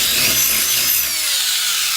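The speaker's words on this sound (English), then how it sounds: "drill out these holes a little bit" Power drill boring out mounting holes in a Honda car door panel, a steady high whine with a slight pitch drop as the bit bites, continuous and close for the whole stretch.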